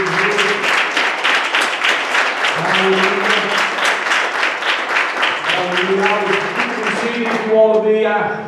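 A church congregation claps in a sustained burst of praise, dense rapid hand claps filling the room while a voice calls out over them and sung or spoken tones rise underneath.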